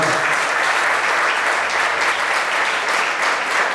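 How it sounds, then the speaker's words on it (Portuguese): A church congregation applauds during a worship service, a loud, sustained wash of many hands clapping together, steady and close throughout with no break. "Você pode aplaudir o Senhor por isso,"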